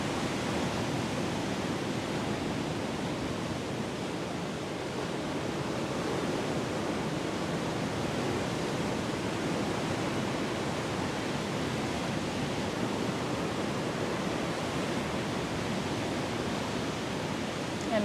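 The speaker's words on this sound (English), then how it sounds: "as you listen to the waves of the ocean." Ocean waves wash steadily under a guided breathing session, a continuous broadband surf roar at even loudness with no distinct breaks, and no voice present.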